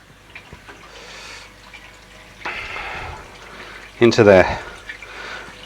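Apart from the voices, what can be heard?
water flowing through DIY moving bed barrel filter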